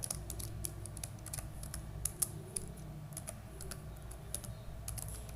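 Typing on a computer keyboard while writing HTML code: irregular bursts of close key clicks with a few sharper taps, over a low background hum, no talking.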